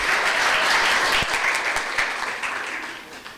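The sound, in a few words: audience applause welcoming students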